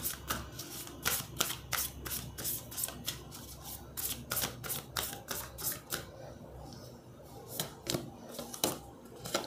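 Moonology oracle cards shuffled by hand in a quiet room, a quick run of crisp riffling snaps and flicks that pauses briefly partway through, then resumes with sparser card taps.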